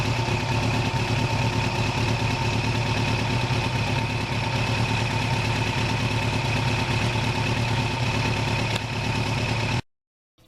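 A 1989 Kawasaki GPX750R middleweight sport motorcycle idles close by with a steady, loud engine rumble and mechanical clatter, then the sound cuts off abruptly just before the end.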